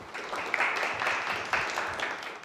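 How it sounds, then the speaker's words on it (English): Audience applause for a speaker at a software conference, a steady wash of many hands clapping at moderate loudness, fairly even throughout with no voices over it. "please give a round of applause to Dave"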